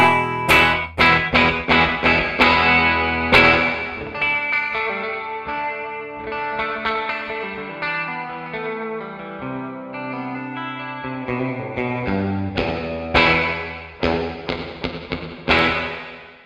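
Electric guitar notes and strummed chords through a spring reverb effect, ringing out with a springy, echoing reverb tail, played alone with pauses between phrases.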